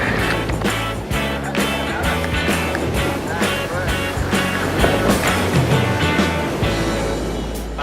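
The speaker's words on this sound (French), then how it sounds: "Car les vagues sont fortes, les chutes nombreuses, et comme Alan, on boit souvent la tasse." Strong ocean surf off the California coast where surfers ride, a loud continuous roar of breaking waves with rushing water and rumble, no talking heard.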